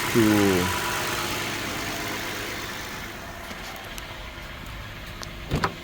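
Engine of a 2013 Toyota Sienna just started and settling into a steady idle, a low continuous hum heard close, with a brief voice at the start and a couple of small knocks near the end.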